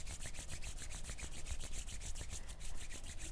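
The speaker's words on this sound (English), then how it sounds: "We're going to rub the hands up and down. So we're going to generate some heat here." Hands rub briskly together during a yoga class, a fast, even series of dry swishing strokes, close and quiet.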